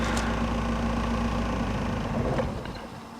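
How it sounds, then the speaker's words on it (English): A car engine idles during a diagnostic test with a steady, close, low rumble and vibration that holds evenly, then eases off and quiets toward the end. "Run engine at idle speed."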